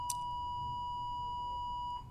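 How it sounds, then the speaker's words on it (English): Steady high electronic beep holds at an even pitch for about two seconds, then cuts off, with a faint click at the start and quiet room hum beneath. "Sorry about the beep."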